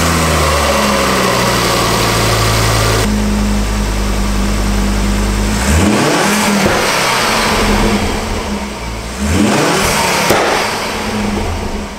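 A Mk2 Ford Focus ST engine, fitted with a new intercooler, idles with a low steady drone, then revs sharply twice with rising and falling swoops, loud and close, with no talking.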